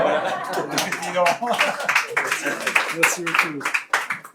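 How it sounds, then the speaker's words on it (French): Audience clapping at a live presentation, a burst of applause with scattered claps and light laughter, a voice speaking over it. "On peut l'applaudir"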